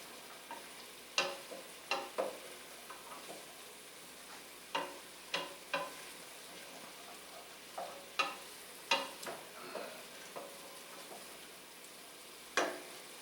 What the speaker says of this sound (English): We're getting some carrot sweat, celery sweat, onion sweat.